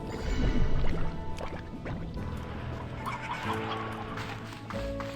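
Chickens cluck and squawk in the video game Slime Rancher 2, several busy overlapping calls among dense game sound effects, music tones and watery drips, with no speech.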